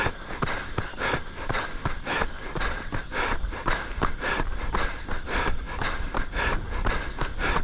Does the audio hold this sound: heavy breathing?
yes